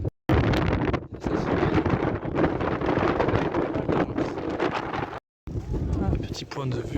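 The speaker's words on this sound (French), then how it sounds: "Là aussi désolé du vent" Strong wind buffets the microphone outdoors in Morocco, a loud continuous roaring rumble with two brief dropouts, and speech-like gusting throughout.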